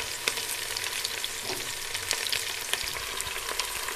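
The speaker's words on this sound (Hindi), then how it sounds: "भिंडी को हमने फ्राई कर लिया" Okra frying in hot oil, a steady dense crackling sizzle with scattered sharper pops, close and moderate in level, with no talk.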